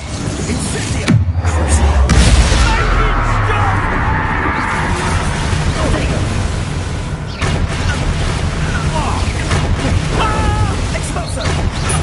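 Incendio fire spell blasts in Hogwarts Legacy, a loud deep boom followed by a sustained roaring, crackling burst, with further fiery impacts and game voices talking over the dense battle noise.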